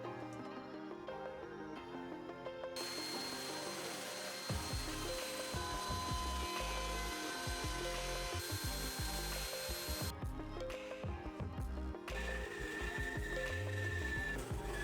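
A tabletop circle being cut with an elliptical circle jig on a bistro side table, a continuous loud machine whir with cutting noise that starts abruptly and runs steadily, briefly easing before resuming, with no voices.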